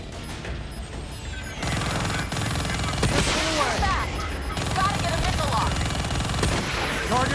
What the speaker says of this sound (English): Watch that ground fire.